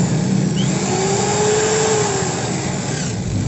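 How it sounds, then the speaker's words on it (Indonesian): Kenmaster 10mm electric drill motor spinning at full speed, a steady loud whine held for the whole stretch without slowing, with no talk over it. "Oke, sekarang kita coba hidupkan dulu mesinnya nih guys, bisa pelan apa enggak nih putarannya"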